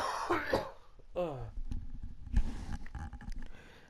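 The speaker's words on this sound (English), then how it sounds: "Excuse me, need to cough." Close, loud cough with throat clearing, a couple of harsh bursts followed by a short voiced sound and low rustling.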